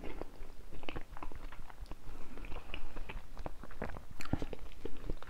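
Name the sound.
chewing crackers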